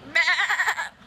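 A person imitates a sheep with a single loud, wavering vocal bleat that lasts under a second.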